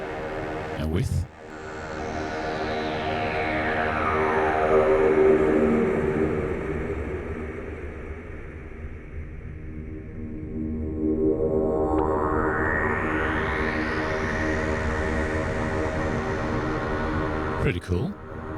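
A sustained synth drone processed with an alienator effect in UVI Falcon, harmonics sweeping downward and then back upward in slow, eerie swooshes, alone and fairly loud.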